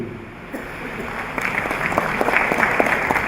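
Crowd at a British Way English Academy convocation in Polonnaruwa applauding after a speech, claps starting sparse and growing into steady, fairly close clapping that builds toward the end.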